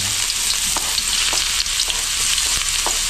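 Chopped ginger sizzles in hot oil in a pan, a loud, continuous frying hiss broken by faint scraping stirs at a few irregular points, with no talking.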